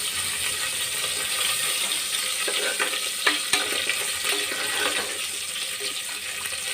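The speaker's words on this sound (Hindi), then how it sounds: "फिर उड़ रहा है तेल में।" Hot oil spatters and sizzles steadily while masala eggplant with green chillies fries in a pan, a dense crackling hiss with scattered sharper pops, close and fairly loud throughout.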